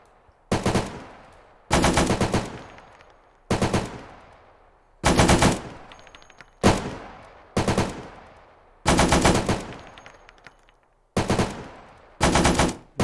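An M60 machine gun fires in Arma 3, loud rapid bursts of several rounds each separated by short pauses, repeating about eight times with crisp sharp reports and brief tails.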